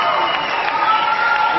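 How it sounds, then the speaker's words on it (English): An audience applauds Professor Ahmed Salama from Egypt as he receives a professorship in mathematics and computer science: a steady, dense wash of clapping that holds at an even level, with a faint tonal layer running beneath it. "A very, very big round of applause for Professor Salama"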